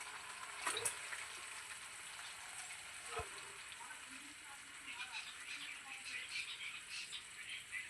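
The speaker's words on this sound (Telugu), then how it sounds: "పచ్చివాసన పోయే వరకు వేయించుకోవాలి దీన్ని స్లోగా చేసుకోవాలి" Chicken pieces frying slowly in a pan for green chicken, a steady soft sizzle running throughout with a faint clink near the start and near the middle.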